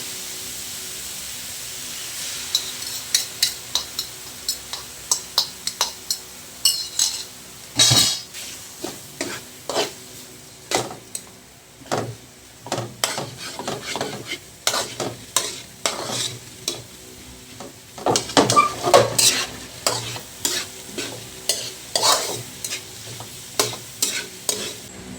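Egg stir-fried with ampalaya (bitter gourd) in a pan: a steady sizzle under repeated spatula scrapes and taps against the pan, close and rhythmic, with no talk.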